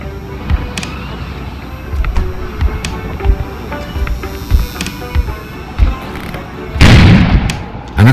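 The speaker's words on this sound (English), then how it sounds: "An explosion suddenly occurred outside." An explosion bursts outside late in the scene, a loud broadband blast after scattered sharp thuds and knocks over a low background rumble, with no voices.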